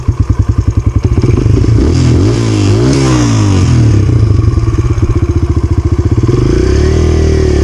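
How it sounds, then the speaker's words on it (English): A dirt bike engine fires up and runs close by. It gives a loud, rapid thumping idle, then revs rise and fall in rough bursts before it settles back into a steady, pulsing idle. "Leave your clutch pulled in, start your bike."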